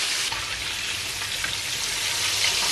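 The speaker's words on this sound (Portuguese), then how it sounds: "E deixamos fritar" Verdinhos, green fritters, fry in a pan with a steady, close sizzle and crackle of hot oil that holds even and unbroken throughout, with no talking.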